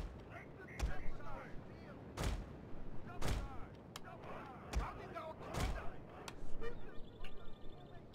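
Artillery and gunfire in Total War: Fall of the Samurai: repeated heavy booming cannon shots at irregular intervals, some near and loud, others fainter, over a busy battlefield bed with a voice talking between them.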